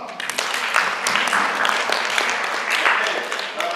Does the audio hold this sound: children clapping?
yes